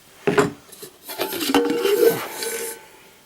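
A deep metal cooking pot being handled, giving a few close clanks and scrapes of metal with some rubbing in between, short and irregular with no talking.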